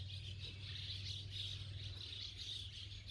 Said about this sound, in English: Swallows are out.